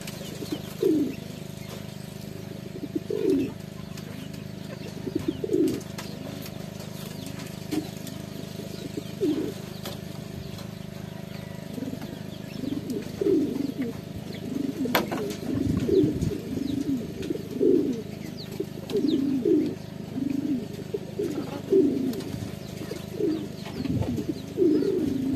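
Pigeons cooing softly and repeatedly at a distance, a steady rhythmic series of low coos over faint background noise, with occasional flutter.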